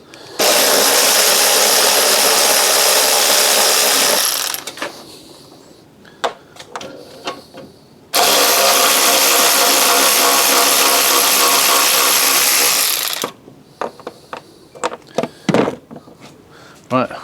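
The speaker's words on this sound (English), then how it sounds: "we've only got 2 bolts to undo, so we'll just undo these, take them off" A power tool undoes two bolts on a car bumper in two loud, close bursts of whirring several seconds each. Clinks, handling knocks and brief speech fill the gaps between and after the bursts.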